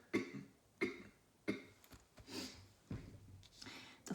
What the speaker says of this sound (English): sometimes it makes me cough